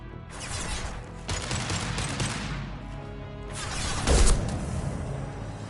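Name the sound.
gunfire in a video game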